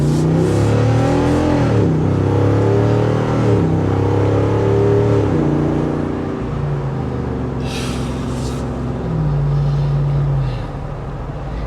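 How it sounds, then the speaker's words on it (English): A 2022 Jeep Wrangler 392 V8 pulls away hard, its loud exhaust swelling through rising revs for several seconds, then easing back to a lower steady drone as the vehicle cruises, heard from inside with no talk over it. "all I can hear is that exhaust"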